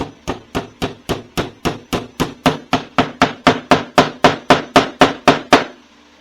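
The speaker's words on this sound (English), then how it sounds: "I'm going to put a little brad nail right in each joint" Brad nails hammered into wooden stool joints, about twenty sharp evenly spaced strikes in a steady quick rhythm, loud and close, ending with a brief quiet.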